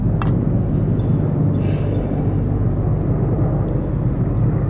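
A steady, loud low rumble of a United States Marine Corps aircraft passing overhead, a constant droning roar that fills the whole stretch without letup.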